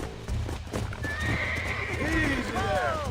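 A horse in the Red Dead Redemption video game whinnies loudly with rising and falling cries over steady clip-clopping hooves, while someone talks over it.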